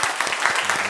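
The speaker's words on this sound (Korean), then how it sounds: "우리 함께 환영의 박수 하겠습니다." Church congregation clapping in welcome during a Sunday worship service, a dense patter of many hands filling the space steadily for under a second, with no talk over it.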